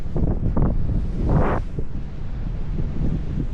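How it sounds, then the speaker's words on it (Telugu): Wind and sea waves at the Penna river mouth where it meets the ocean, a loud continuous rumble of microphone buffeting with a surge of wave wash midway. "సముద్రం"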